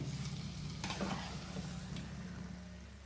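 Fish pieces are stirred into masala in a hot pan for an Andhra-style fish curry, making a continuous close sizzle with a few soft spoon scrapes over a low background hum.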